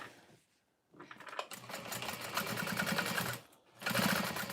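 Sewing machine stitching seams on small pouches: a steady, fast mechanical whirring run that pauses briefly, then resumes close and fairly loud, with no talk over it.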